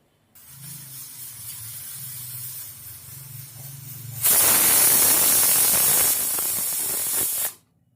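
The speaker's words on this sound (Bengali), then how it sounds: "একটা সিটি হয়ে গেছে, এবার গ্যাসটা বন্ধ করে দেবো।" A pressure cooker boiling cauliflower on a gas stove builds up a low rumbling hiss, then lets out a loud, sustained whistle of escaping steam lasting about three seconds before cutting off.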